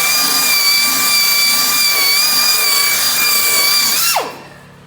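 A power buffer whines steadily and loudly while polishing a car headlight during restoration, its pitch holding near constant before winding down abruptly to silence near the end.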